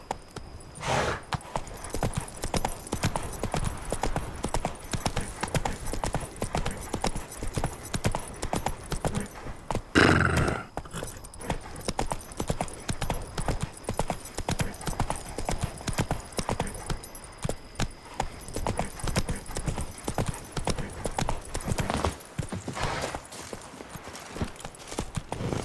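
Roach, the horse in The Witcher 3: Blood and Wine, trots in steady rhythmic clip-clop hoofbeats that continue for the whole stretch, with one brief louder bump partway through.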